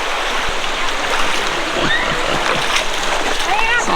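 Feet wading through a cold stream on a hike, continuous rushing water with close splashes from each step and people talking nearby.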